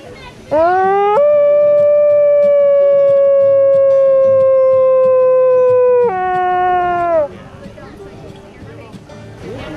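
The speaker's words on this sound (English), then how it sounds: "So the howl brings a kind of a social interaction, and they reinforce rank with one another." Several wolves at a wildlife science center howl together in a loud, sustained chorus of rising and falling tones lasting several seconds, ending in scattered yips and quieter vocal noise.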